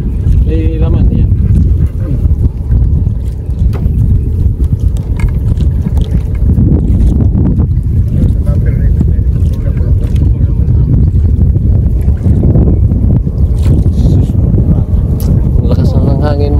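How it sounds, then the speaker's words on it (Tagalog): Strong wind roars and buffets the microphone steadily on a small fishing boat near an island shore, a dense, loud rumble with water sounds throughout and occasional voices underneath. "Lakas ng hangin mga katuda."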